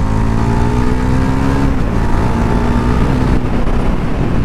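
A 2025 Bajaj Pulsar NS400Z with a 373cc engine accelerates hard on a performance run, its loud engine note climbing steadily in pitch and staying close and continuous throughout, with no talking.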